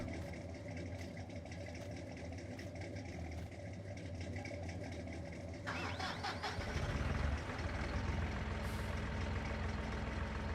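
A game truck engine in Farming Simulator 19 is left idling after a drive, with a steady low rumble throughout that grows slightly louder and fuller partway through, with no talk over it.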